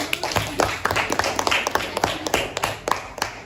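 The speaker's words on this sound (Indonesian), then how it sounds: "Berarti kita kasih tepuk tangan dulu." Scattered classroom applause from a group, sharp irregular hand claps spread across the room, fairly close, with faint murmuring underneath.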